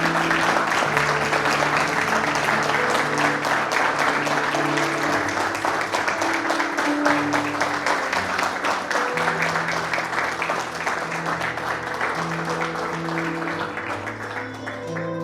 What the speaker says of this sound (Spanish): Usted le puede dar un aplauso al Señor.